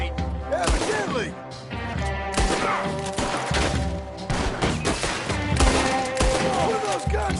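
Red Dead Redemption 2 gameplay carries a loud, busy run of gunshots and crashing impacts layered over music and game voices, with sharp hits landing in quick, uneven bursts throughout.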